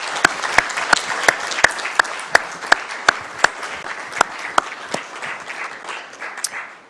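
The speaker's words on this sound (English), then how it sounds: "Please join me in a round of applause." Steady, sustained applause from an audience at a 2021 police awards ceremony in Redmond, with crisp individual claps standing out close by over a dense bed of clapping that fades near the end.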